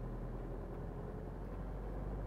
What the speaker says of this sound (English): It's basically just spinning the wheels there.